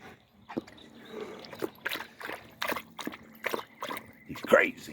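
A thirsty dog laps water in a car-related setting, giving soft irregular slurps and sloshes in a quick rhythm, close and moderately loud, with a voice talking over parts of it.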